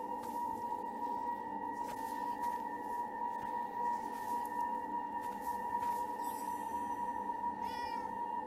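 A cat in the game Forspoken gives a few soft meows over a steady humming game soundtrack, with a rising chirpy sound near the end and no talk.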